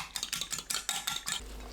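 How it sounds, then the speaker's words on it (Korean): Eggs being beaten in a bowl with a utensil for a Korean radish soup, a quick, steady run of clicking strokes against the bowl, close and alone, ending with a dull knock. "계란을 풀어주세요."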